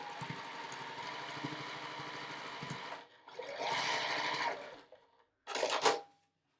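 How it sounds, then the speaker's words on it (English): A sewing machine stitches a quilt border piece in fast, even rattling bursts, running for a few seconds, pausing, then starting again with short runs, close and clear with no talk. "how to sew on that final border piece"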